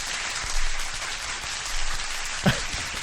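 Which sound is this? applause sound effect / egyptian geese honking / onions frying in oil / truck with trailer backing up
applause sound effect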